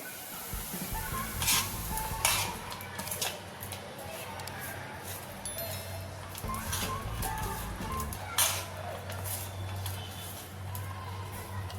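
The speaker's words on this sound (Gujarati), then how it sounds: "બરાબર મિક્સ કરી લઈશું આવી રીતે મિક્સ કરી લેવાનું છે" Raw mango and onion salad is mixed in a bowl, giving repeated close scraping and clinking spoon strokes with soft wet rustling over a low background hum.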